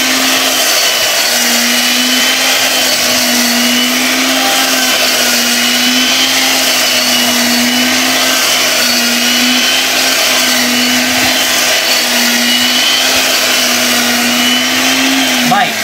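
An electric 28000 rpm grinder minces a whole chicken with a loud, continuous high-speed motor whine and steady churning, while someone talks over it throughout.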